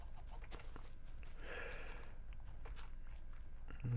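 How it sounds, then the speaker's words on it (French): A Minecraft chicken clucks briefly in a short burst amid steady in-game background noise, fairly faint, with no talking over it. "Alors là, on a déjà une poule."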